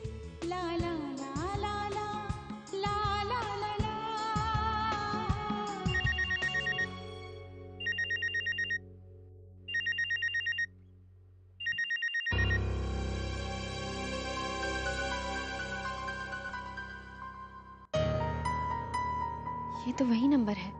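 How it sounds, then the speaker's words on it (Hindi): A telephone ringtone plays in short repeated bursts between stretches of dramatic television music, the rings clear and mid-loud with gaps of silence between them. "कौन हमें बार बार फोन कर रहा है?"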